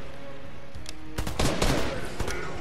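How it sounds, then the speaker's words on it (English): Video game gunfire in a Cap vs. Batman match, a burst of rapid shots halfway through with a few scattered cracks after, loud and close over a sustained background tone. "Who the fuck's shooting me?"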